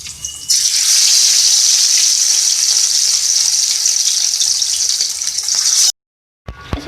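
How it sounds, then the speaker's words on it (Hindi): Marinated fish hitting hot oil for a light fry, giving a loud, steady hiss and sizzle that runs for several seconds and then cuts off abruptly. "हमारी मैरिनेट की हुई जो फिश है यहाँ पर, इसको हम फ्राई करेंगे और लाइट फ्राई करेंगे इसको ऑयल में।"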